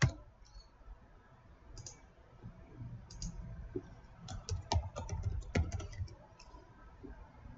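Login credentials entered on a computer keyboard during a SQL Server 2016 installation: a few scattered clicks at first, then a denser burst of close keystrokes toward the end, over low room noise.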